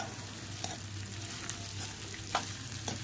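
Sabudana khichdi with crushed peanuts and salt stirred in a pan, a soft low sizzle with a few spatula scrapes, close but fairly quiet.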